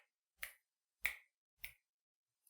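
Three crisp finger snaps, evenly spaced like quarter notes in 4/4 time, sharp and close in a quiet room, with a faint fourth click at the end.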